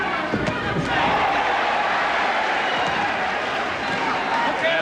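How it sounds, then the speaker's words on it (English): Boxing arena crowd at a Harry Arroyo fight, a dense, loud, continuous roar of many voices with shouts and cheers rising and swelling throughout. "the crowd continues to respond to everything that Harry Arroyo does"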